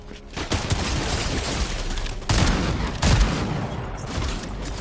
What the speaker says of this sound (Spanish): me estoy disparando para atrás